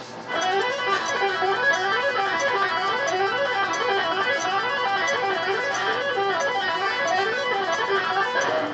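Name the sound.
string noise while playing tuplets on a stringed instrument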